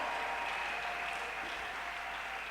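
A church congregation applauds steadily, a dense, continuous wash of clapping from a large crowd with no pauses.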